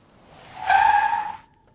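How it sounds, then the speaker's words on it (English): A car's brakes screech in a short, loud tire squeal that rises and holds for about a second before fading, sharp and close, with no other sounds around it. "I heard the sound of brakes screeching."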